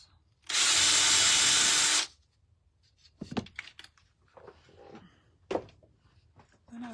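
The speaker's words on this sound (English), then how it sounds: "my drill and just put a couple little" A power drill runs in one steady, loud burst of about one and a half seconds, boring small holes in a craft piece prepared for stencil painting. Quieter handling clatter and taps follow.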